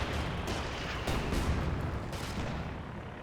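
Sustained battlefield gunfire from a .50 cal machine gun in Company of Heroes 2, dense and continuous with rumbling bursts and booms layered over a constant war-game din.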